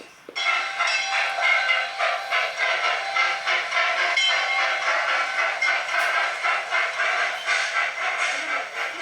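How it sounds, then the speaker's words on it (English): A toy sugarcane train led by the number 240 Inaka locomotive, a 1943 Porter on 36-inch gauge track, rolls by with a steady rhythmic clatter and a ringing whistle-like tone, close and continuous with no talk. "Today's train is headed by the number 240 Inaka locomotive."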